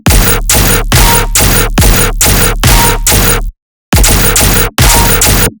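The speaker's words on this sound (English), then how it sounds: "Turn up the guns a little bit." Punchy synthesized gun-style bass hits in a tearout electronic music track fire in a loud, dense rhythmic burst, eight or so blasts, then a brief silence before three more heavy shots.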